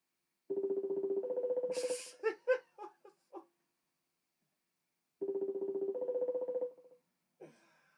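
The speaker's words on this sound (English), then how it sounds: "I pressed the wrong button and I'm there ringing Iron Man Bear on Instagram" An Instagram call ringing tone sounds twice: a steady electronic two-note ring with a pause between, and a few short giggling sounds after the first ring.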